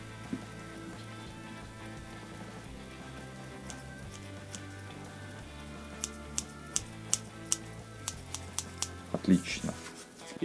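Freshly sharpened scissors snipping, a quick run of sharp close clicks arriving near the end after a stretch of low background noise, the cuts growing louder and denser in the final seconds.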